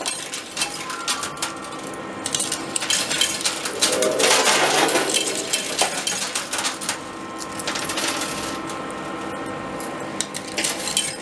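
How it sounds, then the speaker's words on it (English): Coins clatter and drop inside an arcade coin pusher machine, a dense, continuous metallic jingling with scattered sharper clinks, loud and close throughout, with no talk. "I'm just wasting coins."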